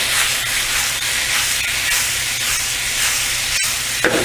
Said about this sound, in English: Add in a tiny bit of our sesame oil. And then in the fish.